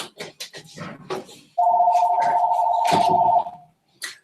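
A phone ringing indoors during a live talk show, one steady electronic ring tone lasting about two seconds, with speech before and after it.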